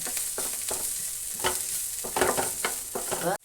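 A spoon scrapes and stirs chicken momo filling seasoned with black pepper in a hot pan, with rhythmic strokes over a soft, steady sizzle and no talk.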